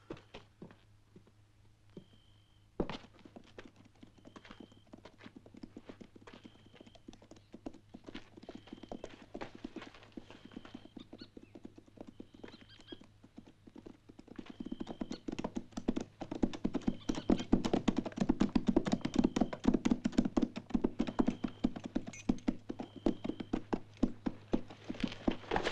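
Horse hooves clip-clop steadily, faint and sparse at first, then growing louder and denser as more than one horse draws nearer.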